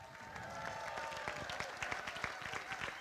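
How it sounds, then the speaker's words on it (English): An audience at an awards event for Man, Woman and Student of the Year applauds, dense clapping with a few sharper claps standing out, steady and fairly close, with a faint tonal hum beneath. "let's try to make this next rousing applause so loud that Desiree in Riverside can hear us"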